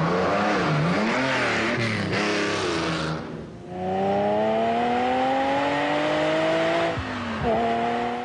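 A Lamborghini Countach engine revs loudly and climbs in pitch, drops briefly, then rises again through several gear changes, close and continuous with no talking.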